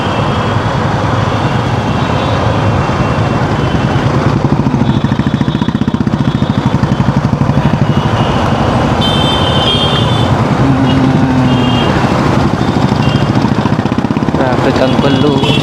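Morning commuter road traffic on a single-lane hill road near Lingampally and Gachibowli, with buses, cars and trucks. Dense, continuous engine rumble and road noise stay loud throughout, with brief horn-like tones partway through.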